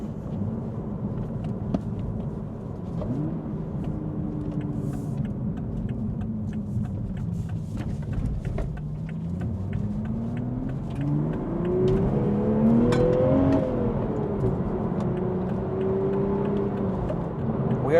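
A 2026 Toyota Supra sports car cruises at about 100 km/h, heard from inside the cabin. Steady engine drone and road roar rise and fall gently in pitch as the revs shift, with no talking.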